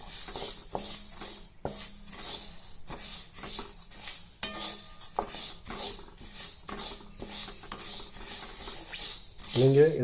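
Small seeds dry-roast in a pan while a spoon keeps stirring them, producing repeated dry scraping and rustling strokes with brief pauses and no oil sizzle.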